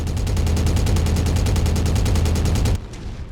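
Rapid, even machine-gun fire from a mech's weapons in MechWarrior: a loud, continuous stream of shots for nearly three seconds, then a sudden stop leaving a quieter rumble.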